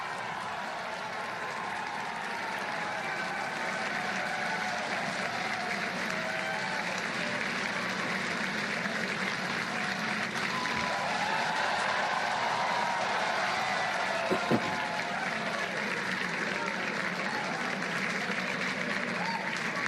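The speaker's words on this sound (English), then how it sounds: "It sounded like applause." Sustained applause from a crowd at a live news broadcast event as satellites are seen moving, steady and fairly loud throughout with faint voices mixed in.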